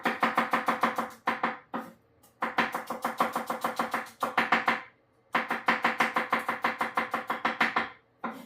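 Rapid rhythmic knife chopping of garlic cloves on a cutting board, close and steady, in several long runs of quick taps separated by brief pauses.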